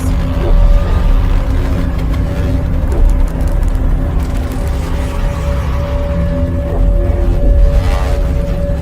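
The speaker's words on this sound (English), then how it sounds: "The sound you're hearing is a light black hole banging on space each time it gets close." Simulated sound of a light black hole banging on space as it nears a very heavy black hole: a loud, continuous low droning rumble with a steady tonal hum and faint repeated pulses.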